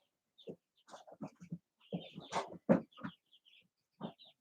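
Chickens clucking and squawking in short, irregular bursts, fairly close, with a few sharper calls mixed in and brief pauses between.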